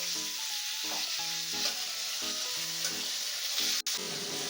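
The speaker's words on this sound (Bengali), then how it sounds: "টমেটোটা একটু ভালো করে ভাজিয়ে ছিটিয়ে নেবো" Tomatoes fry with ginger, cumin and red chili powder in a pan, giving a steady, even sizzle throughout, with a soft repeating melody underneath and one brief sharp click near the end.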